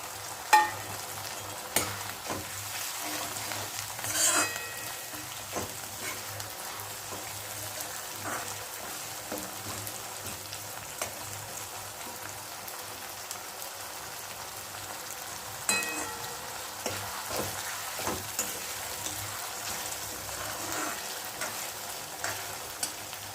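Tomatoes fry in a pan for pav bhaji: a steady sizzle runs throughout, broken by scraping and clattering stirring strokes at uneven intervals, with no talking.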